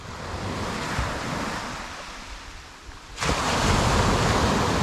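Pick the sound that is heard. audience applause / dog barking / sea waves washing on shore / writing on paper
sea waves washing on shore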